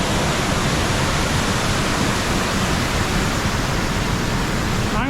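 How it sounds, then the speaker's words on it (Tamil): The Ekayam Waterfalls in Idukki pour with a loud, dense, continuous roar of falling and flowing water. The rushing sound is broadband and close, with no voices. "இங்கேருந்து இந்த தண்ணி எப்படி வெளியே வருது, இங்கேருந்து இந்த தண்ணி போகுது"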